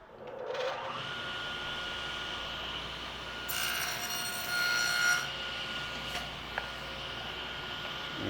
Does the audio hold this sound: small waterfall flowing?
no